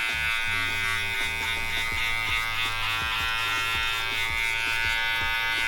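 Electric hair clipper buzzing steadily and close during a barber's back-taper haircut, a continuous motor hum with faint rhythmic knocks, no talking.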